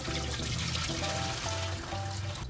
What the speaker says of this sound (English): We are going to get rid of the water here on top.